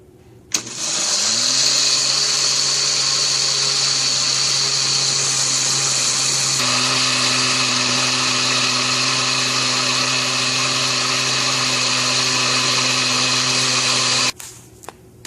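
A kitchen appliance grinding bars of soap into fine crumbs for homemade concentrated laundry detergent, a loud steady whirring motor drone that starts abruptly, shifts pitch partway through and cuts off near the end, with no talking.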